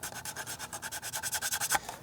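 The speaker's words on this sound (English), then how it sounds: "then I can smooth that out with my file a little bit" A hand file rasps back and forth over plastic toy parts, a quick even rhythm of about fifteen close, scratchy strokes ending in a sharper final scrape.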